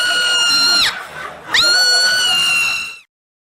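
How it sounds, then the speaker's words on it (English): A woman screams in two loud, high, sustained bursts with a short pause between them, then the sound cuts off abruptly into silence. "That was my wife screaming."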